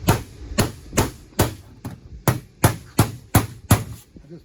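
A hammer strikes HVAC sheet metal to knock out holes, about ten sharp, ringing metallic blows in a steady, fairly quick rhythm, close and loud with no talking.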